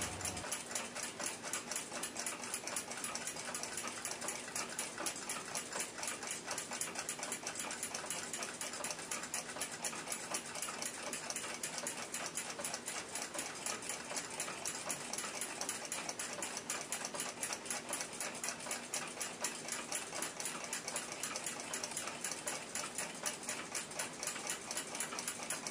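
Watchmaker's lathe turning down the outer diameter of a jewel for a Waltham 7 jewel pocket watch, a quiet, fast, even ticking whir that runs steadily and faintly throughout.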